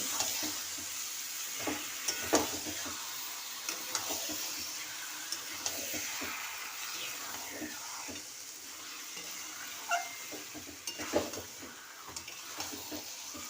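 Chicken frying in oil in a pan as it is stirred: a steady sizzle runs throughout, broken by irregular scraping and clacking stir strokes, close and moderately loud, with no voices.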